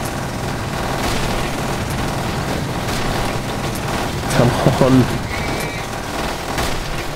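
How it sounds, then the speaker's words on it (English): A machine cannon hammers away in the vehicle combat game Death Skid Marks, a dense rapid burst of shots and booms running steadily throughout, with a voice speaking over it. "they have a machine cannon as well"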